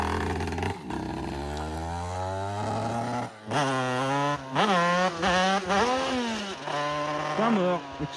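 A 50cc motorcycle at full throttle, its engine note climbing in repeated revving sweeps, loud and close, with one rider's voice breaking in briefly between the pulls.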